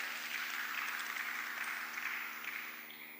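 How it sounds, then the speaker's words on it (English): An audience at a technical and business meeting in Lagos applauds, a steady wash of clapping that fades toward the end. "I think they deserve an applause for that."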